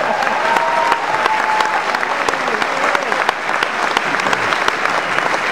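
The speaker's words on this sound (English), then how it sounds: "But give them a round of applause anyway." Crowd applause at a campaign rally where Barack Obama is introduced, loud dense clapping with a few cheers running unbroken for several seconds.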